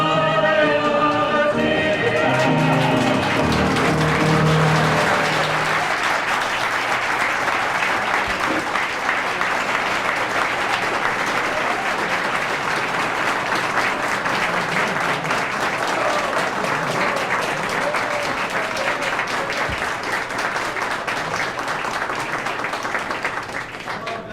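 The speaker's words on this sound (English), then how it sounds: "Thank you for this unprecedented applause." A song ends at the Crystal Palace cabaret in Aspen in 1965, and the audience answers with long, loud, sustained applause, a thick wash of clapping that runs for over twenty seconds.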